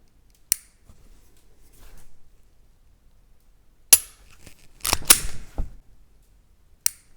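Dry-fire trigger pulls on a Sig P365X Macro and a Glock 43X pistol: a few sharp, isolated mechanical clicks with quiet gaps between them and a short cluster of clicks and rattles as the trigger resets, close and alone.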